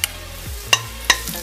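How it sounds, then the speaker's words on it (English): Onion dropped into a tablespoon of hot oil for a spicy garlic fish sauce, a low sizzle with a couple of sharp utensil clinks against the pan, close and brief with no talking. "Heat up 1 tablespoon of oil, and once the oil is hot enough, put in the onion"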